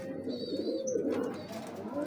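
Pigeons cooing among big breeder pigeons kept by a fancier, a soft low rolling coo close by, with faint chirps and some talk in the background.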